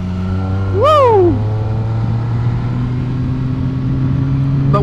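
Car engine revving up, a rising and falling whine over a steady low drone, then settling into a continuous near rumble with a faint burble on deceleration.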